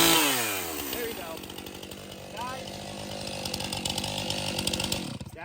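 A STIHL chainsaw revs at full throttle with its bar tip held about an inch off the ground, a loud, continuous, close-up snarl that holds steady for several seconds.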